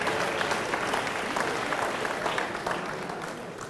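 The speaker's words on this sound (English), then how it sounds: "Let's give all our athletes another round of applause" A banquet audience applauds its athletes in a steady, dense wash of clapping that holds evenly, then softens slightly toward the end.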